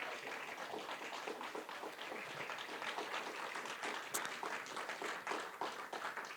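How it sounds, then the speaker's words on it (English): An audience applauds a panel at the close of a community discussion event. The clapping is dense and continuous, fairly quiet and distant, and lasts the whole stretch with no speech over it. "Let's have a round of applause for our panel."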